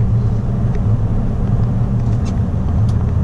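Toyota Tundra pickup cruising a freeway in rainy, foggy weather: a constant, loud low engine and road rumble with tyre hiss, steady throughout with no talking.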